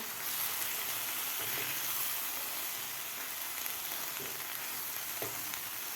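Butter and green peas being stirred in a pan, a steady sizzle and fry hiss filling the whole stretch with a few soft scrapes of the spoon, close and fairly quiet, no talking.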